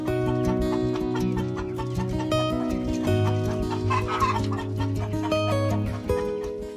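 KUB chickens cluck continuously at close range, a dense layered chorus of many birds with repeated overlapping calls and no speech.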